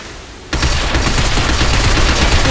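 Rapid gunfire bursts out suddenly after a quiet moment in Binary Domain as shots are fired at a sign, a loud, continuous volley of closely spaced shots with no talking.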